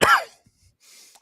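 One sharp, loud cough from a person in a podcast setting, then quiet, followed by faint breathy noise near the end.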